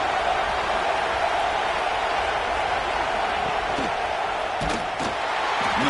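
A roaring stadium crowd in the College Football 26 video game swells during a red zone defensive stand, a constant broad wash of cheering with a few sharper bursts near the end.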